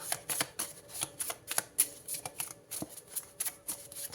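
Tarot cards being shuffled by hand, with a quick run of crisp, rhythmic riffling snaps and flutters, close and fairly quiet.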